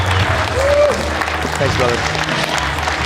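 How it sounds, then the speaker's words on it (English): Loud, sustained audience applause from a live crowd, with a brief spoken thanks heard over the clapping. "that is the loudest applause that TNC may have ever produced"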